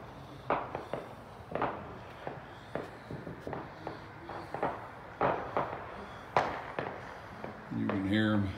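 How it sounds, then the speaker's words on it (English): Scattered consumer fireworks pop and crack around a residential subdivision just after midnight on New Year, a string of irregular mid-distance bangs spread over several seconds, with a voice briefly heard near the end. "a lot of fireworks here."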